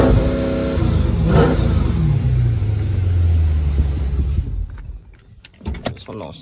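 A 392-powered car with hood vents revs its engine: a loud, continuous low rumble that swells and sweeps down in pitch over several seconds, then cuts away to a few faint knocks.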